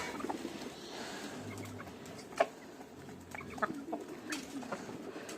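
Chickens and a black-and-grey rooster clucking and calling in a backyard flock, faint and scattered over steady background noise, with a few sharper calls standing out and no talk.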